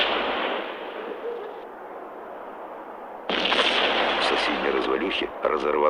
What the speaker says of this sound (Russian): взорвалась очередная бомба